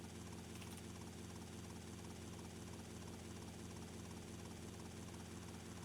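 Steady helicopter rotor and engine drone from GTA Vice City, a dense unbroken hum holding at an even level from start to finish with no voices.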